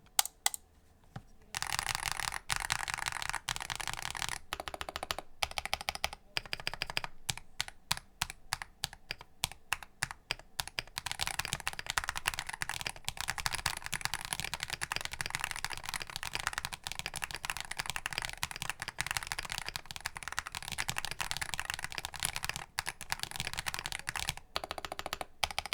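A Wooting keyboard fitted in an Aim60 case with all its foams is typed on steadily and nearby: dense, continuous keystroke clatter broken by a few short pauses, with no talking.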